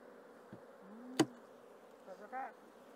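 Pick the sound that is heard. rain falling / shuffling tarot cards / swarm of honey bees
swarm of honey bees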